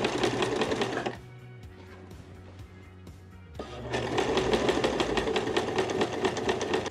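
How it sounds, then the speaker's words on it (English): A sewing machine top-stitches along the edge of a fabric pocket, running in a fast steady rhythm, stopping for a couple of seconds of quiet, then starting up again, close and clear. "So now that I've top stitched the edge of the pockets right over here at a quarter of an inch"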